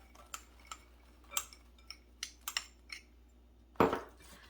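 Spinach salad with candied pecans, cranberries, apples and Gorgonzola being tossed in a bowl: a string of light, sharp clinks and taps from utensils, spaced irregularly, then one louder rustling clatter near the end, close and quiet with no talk.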